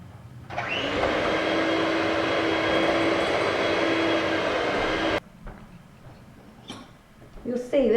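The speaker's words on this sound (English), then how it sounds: "I'm going to use a hand whisk to beat that all up." A hand whisk beats elderflower fritter batter with a loud, steady motor whirr for about five seconds, then stops abruptly and is followed by light kitchen clatter.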